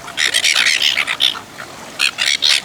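Seagulls being fed by people squawk in a busy cluster of harsh, high calls, a rapid run of overlapping cries, a brief lull, then another burst, fairly close.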